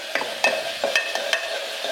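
Chopped carrots stirred in a pan with onions and ginger paste for a Kerala-style stew, several quick scraping strokes at a steady rhythm over a soft, continuous sizzle, close and clear with no voices.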